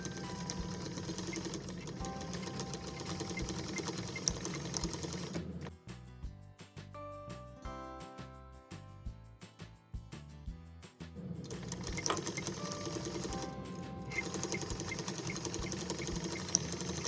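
Sewing machine stitching the exterior of a boxy fabric pouch or dopp kit bag, a steady fast mechanical whir and rattle running throughout, pausing briefly mid-clip before resuming, with no talk.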